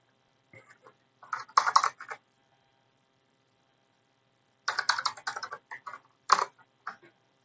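A password being typed on a computer keyboard: two short runs of quiet, crisp key clicks separated by a few seconds of silence, close and alone.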